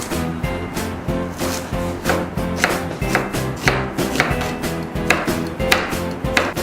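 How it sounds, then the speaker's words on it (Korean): A knife chops napa cabbage and water dropwort steadily on a cutting board, with quick, even strokes hitting wood over and over at close range, set against soft background music. "배추를 썰어줍니다. 미나리를 썰어줍니다."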